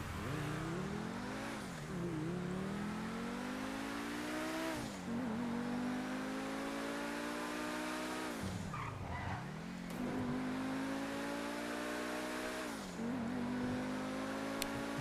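A car engine drives and revs in a GTA roleplay game, climbing in pitch through several gear shifts and dropping briefly between them, loud and steady for the whole stretch.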